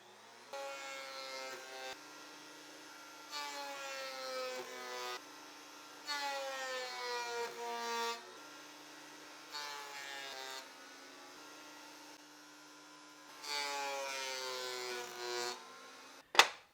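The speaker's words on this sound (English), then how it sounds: "In the next step, I'll run it through the thickness planer to align the sides." A thickness planer feeds a glued-up piece of old wood in repeated passes, each a loud, steady cutting whine of a couple of seconds with a motor hum between passes, ending in a sharp knock.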